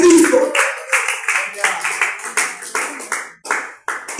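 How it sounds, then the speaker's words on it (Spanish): Church congregation applauding during a sermon in Ecuador, rhythmic clapping in roughly even beats, loud and close, with a voice calling out over it. "Dele fuerte aplauso a Jesucristo"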